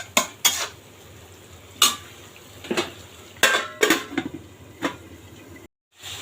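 A metal spoon scrapes and clanks against a pot while dried loitta fish curry is stirred and sautéed, giving sharp irregular knocks over a faint background hum, close by with no talking.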